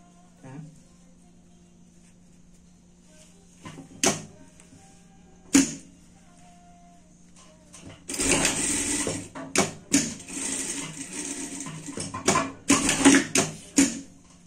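A sewing machine stitches a pet Christmas hat, starting with a few isolated clicks and short bursts, then running in several louder whirring stretches that stop and restart, close by, with a faint low hum underneath.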